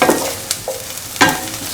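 Shallots hit a hot pan and frying starts for a lemon chickpea fried rice, with short bursts of sizzling and a couple of stirring scrapes close to the microphone, no voices.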